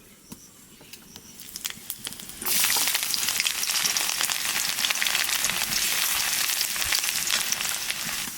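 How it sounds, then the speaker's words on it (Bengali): Dry red chillies and chopped garlic dropped into hot mustard oil, bursting into a loud, steady close sizzle and spitting crackle that carries on without a break after a quieter lead-in of faint pan noise. "তেল গরম হয়ে গেছে ওখানে দিয়ে দেবো শুকনো লঙ্কা এইবার দেবো দা রসুন কুচি"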